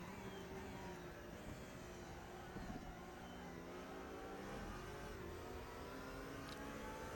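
Race car engines, including a Camaro, at Bathurst in a racing video game, a steady layered roar of several cars running close together, rising and falling slightly in pitch, with no talk.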